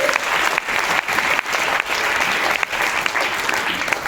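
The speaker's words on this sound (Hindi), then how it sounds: "तालियां बजा दीजिए भगवान के लिए, परमपिता परमेश्वर के लिए।" Sustained applause fills a hall as a seated audience claps loudly and continuously, with a dense steady patter and brief dips.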